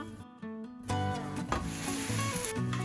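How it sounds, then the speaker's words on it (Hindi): A burger bun toasts in a pan over a low flame, giving a steady close crackling sizzle with scraping and rubbing as it is pressed and moved, starting after a brief quieter moment. "इसी तरह मैं दूसरा बर्गर भी टोस्ट करूंगी"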